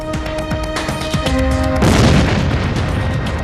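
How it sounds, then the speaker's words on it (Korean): A coal dust explosion in a mine: after a stretch of ringing tones, a sudden deep, broad boom bursts out and then rumbles on loudly to the end, with no voices. "이 폭발은 무서운 불덩어리를 만들어낼 수 있다."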